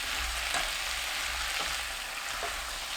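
Zucchini stir-fries with minced garlic, scallion, salted shrimp and a splash of water over medium heat, giving a steady, close sizzle with a few faint stirring scrapes.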